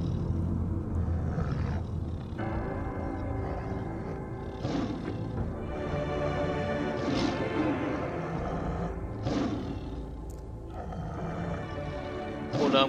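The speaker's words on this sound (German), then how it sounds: "Klingt nach einem Löwen." A lion roars and growls several times over a busy mix of game sounds in Gabriel Knight 2, fairly loud and continuous throughout.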